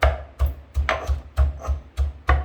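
A pestle pounds masalas in a mortar toward a coarse paste, six or seven rhythmic thuds close up, each strike followed by a brief gritty scrape, steady and evenly spaced.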